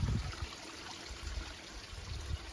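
Water streams and trickles near a waterfall in a Thai forest, a soft, steady rush at low level with no voices.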